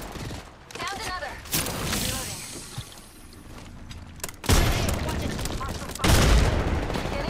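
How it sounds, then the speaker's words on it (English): Rapid bursts of automatic gunfire and single shots in an Apex Legends match, loud and close, coming in clustered volleys with brief pauses, layered over game effects and a character's voice lines. "Getting shot at."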